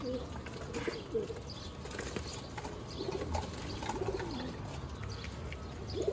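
Cheena pigeons coo in soft, low, intermittent phrases against a busy background, with a few brief wing flutters and faint chirps mixed in.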